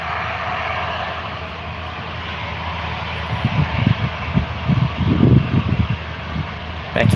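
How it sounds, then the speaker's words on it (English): Virgin Australia airliner engine rumbling steadily while taxiing, with a broad constant roar and louder low throbbing surges toward the end, heard from a distance outdoors. "Back to the aircraft, Virgin Australia."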